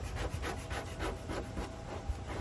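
A squeegee pushes a vinyl racing stripe flat against a car body during dry installation, giving close, repeated soft rubbing strokes in a quick even rhythm.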